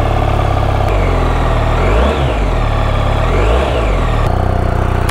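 A BMW R1300GS motorcycle with its standard exhaust can starts and idles up close, a loud steady low throb with a couple of brief blips in revs in the middle.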